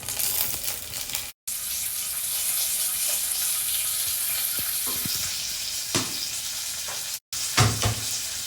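Mustard seeds, urad dal, cumin, dried red chillies and curry leaves sizzle and crackle in hot oil as a tempering. The frying hiss is continuous, with occasional stirring clinks and pops and two short silent breaks.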